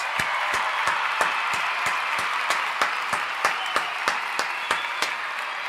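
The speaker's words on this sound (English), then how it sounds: "Dovey, we're going to give you another round of applause." A crowd applauds steadily throughout, with sharp individual claps landing in a quick regular rhythm over a dense bed of clapping from many hands.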